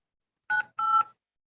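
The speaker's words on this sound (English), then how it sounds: "If you know your party's extension, you may dial it at any time." Two short telephone keypad DTMF tones dial an extension on an automated phone line, the second tone slightly longer, clear and alone with no voice.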